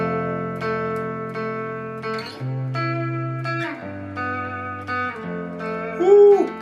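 An acoustic guitar plays a sequence of sustained strummed chords in place of barre chords, ringing clearly with a steady rhythm, and a brief higher note sounds near the end.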